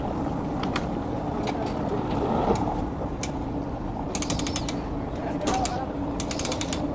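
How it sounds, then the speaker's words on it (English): A boat motor shifted into reverse but failing to engage gear, giving a clanking, ratcheting mechanical rattle over steady engine drone and water noise, with bursts of clicking toward the end. "This thing's hitting reverse, but it ain't going in gear."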